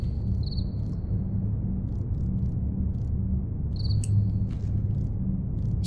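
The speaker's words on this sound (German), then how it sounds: "Was ist denn das? Grillen?" Crickets chirp in the video game Home Sweet Home, a steady trilling insect chorus with sharp high chirp bursts repeating over a low ambient rumble, no voices.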